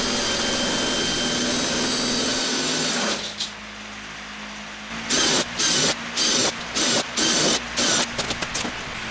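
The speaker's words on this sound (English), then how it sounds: "I then drilled a set of corresponding holes in the table to mount the bracket." An electric drill bores holes in a camping table end to mount a bracket, first with a steady high whine for about three seconds, then with a series of short, evenly spaced bursts close by.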